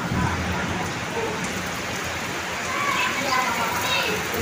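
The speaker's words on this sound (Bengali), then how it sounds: "প্রচন্ড বৃষ্টি হচ্ছে" Heavy rain pours down in a steady, dense hiss that stays loud and even throughout, with no distinct thunder.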